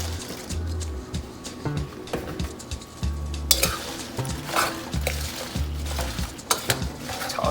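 Brussels sprouts get tossed in hot butter in a pan, with repeated rhythmic scraping and clattering of a utensil against the pan over a light sizzle, close up and fairly loud, with no talking.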